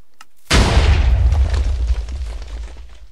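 A TNT cannon in Minecraft fires with a sudden loud boom after a brief quiet moment, followed by a rumbling blast that slowly fades.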